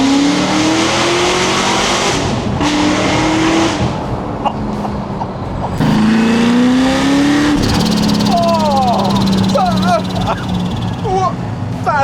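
A ridiculous American car's engine revs hard and loud in the UK, rising and falling in repeated surging pulls with tire squeal and sharp chirps near the end, while people talk and exclaim over it.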